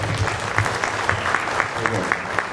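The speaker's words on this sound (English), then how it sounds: "Everybody, a round of applause for them, right?" A crowd at a 2014 Murrieta city council candidates forum applauds steadily, dense clapping filling the room at a constant level throughout.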